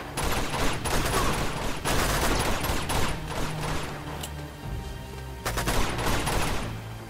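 Uncharted 2 game combat with dense gunfire, rapid overlapping shots and automatic bursts crackling continuously and loudly throughout, with a short lull before a final flurry.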